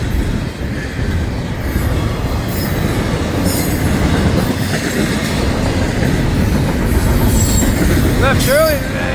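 Florida East Coast freight train 107 rolls southbound through Bunnell, Florida, a loud continuous rumble of railcars and clattering wheels passing close by, with brief wheel squeals near the end.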